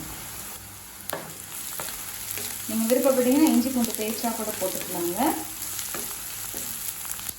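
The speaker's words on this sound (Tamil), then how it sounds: "நல்ல கலர் மாறுற வரைக்கும் வதக்கிக்கோங்க" Continuous soft sizzling of chopped garlic and ginger frying in a pan, with occasional stirring clicks and someone speaking over it.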